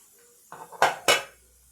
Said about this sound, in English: I'm going to put in 1 tablespoon of butter into my pan